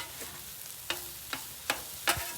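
Steak stirred and fried with rice in a pan, a soft background sizzle broken by four sharp scraping clicks of a utensil against the pan, spaced roughly evenly and close by.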